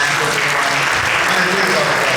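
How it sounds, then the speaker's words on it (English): Audience applause at a comedy show for long-married couples: a short, dense burst of clapping from the crowd with a murmur of voices beneath it. "Another round of applause for those two couples back there."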